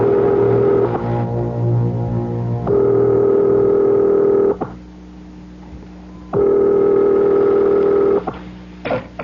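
Telephone being dialed in a radio drama, heard as steady tonal bursts and a dial tone on the line, sounding loud and close, with pauses between segments and no talk.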